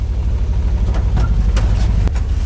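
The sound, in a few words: ZIL 130 fuel truck engine warming up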